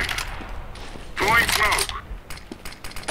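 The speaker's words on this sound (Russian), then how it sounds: "Там просто парень с дела хорошо стреляет." Bursts of rapid gunfire from an enemy player on Dust2 in Counter-Strike, a dense volley mid-clip among sharp, close shots.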